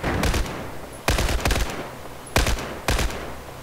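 Battlefield 4 gunfire, close and loud: four short rattling bursts in quick succession, each a tight cluster of shots with a brief ringing tail before the next.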